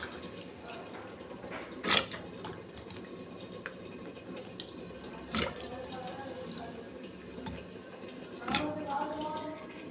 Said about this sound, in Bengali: এই যে ডালের মধ্যে আমি পেঁপেটাও ধুয়ে দিয়ে দিচ্ছি